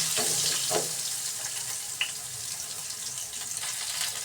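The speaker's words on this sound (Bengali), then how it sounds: "তো আলু কটা ভেজে নিই" Long-cut potato strips frying in oil left over from frying fish, giving a continuous bubbling sizzle with soft clinks and stirring noises mixed in.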